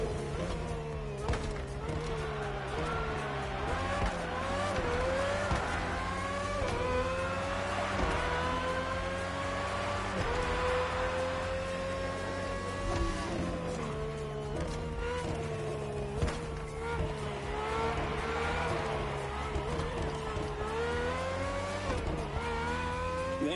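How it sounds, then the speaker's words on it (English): Red Bull RB18 race car with a Honda engine in The Crew Motorfest video game: a high, loud engine whine that climbs and drops repeatedly through gear changes, heard continuously from close by. "RB18 is the latest model with more aggressive aerodynamics and a powerful Honda engine"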